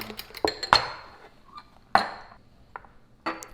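A few sharp, scattered clinks of a utensil against a bowl while four eggs with a little salt are scrambled, spaced irregularly with quiet gaps between them.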